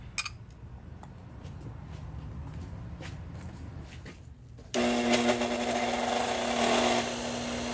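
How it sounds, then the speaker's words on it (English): Faint clicks and handling noises give way to a loud, steady whirring power tool with a harsh abrasive hiss as a wire brush spins against metal parts of a vintage Craftsman Model 315.7790 drill. "I'm going to wire brush all these guys."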